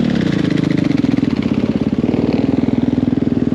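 A 450cc dirt bike engine idles close by with a loud, rapid, even thumping pulse that holds steady the whole time.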